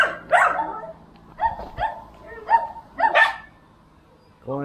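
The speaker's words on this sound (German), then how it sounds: "Komm, jetzt die ganzen Hunde hier vorne." Several dogs outdoors in Portugal bark repeatedly in loud, close, uneven bursts, one yapping over another, with brief pauses between barks.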